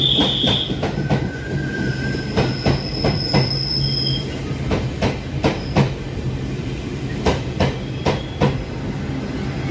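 A train pulls into a station in Taiwan with rolling rail noise, a steady hum and repeated clacks over the rails. A high wheel squeal rises and fades partway through, and no one speaks.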